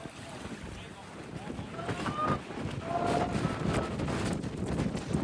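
Strong wind gusts buffet the microphone at Lawson's Landing, a steady roaring rush that swells louder toward the end, with people talking underneath.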